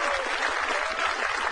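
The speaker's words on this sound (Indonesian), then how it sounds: "Tepuk tangan." A short burst of crowd applause at an Indonesian stand-up comedy show, dense clapping from an audience, steady and fairly loud throughout.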